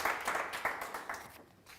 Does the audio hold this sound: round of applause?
yes